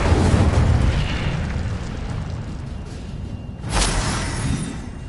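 Incendio fire spell cast in Hogwarts Legacy, a loud roaring fiery whoosh with rumbling low end, then a sudden bright burst flaring up partway through before settling back to a sustained roar.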